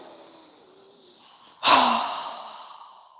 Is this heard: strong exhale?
yes